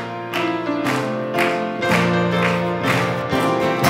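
A church congregation claps along in steady rhythm to a sung hymn during a Korean Presbyterian Sunday service, the claps blending with voices and accompaniment throughout.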